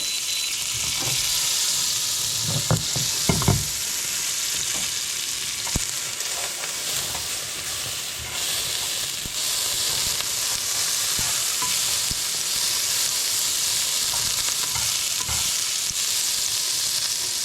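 Lion's mane mushrooms frying in butter in a pan, a loud, steady, close sizzle with a few spatula knocks and scrapes early on, no voices.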